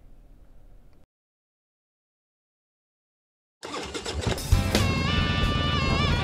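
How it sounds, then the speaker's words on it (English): A motorcycle engine revs loudly in a show intro, rising out of silence after a brief faint sound, with music-like layered tones building over the roar. "Kickstart that engine and roll thunder with the pack."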